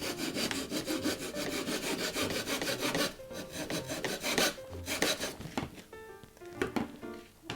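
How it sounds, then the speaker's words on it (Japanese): A hand saw cuts through a 100-yen Seria picture frame with rapid, rhythmic rasping strokes, steady at first, then pausing briefly and resuming in shorter, uneven strokes, close and fairly loud. "ここまでしたらノコギリで切っていきます。"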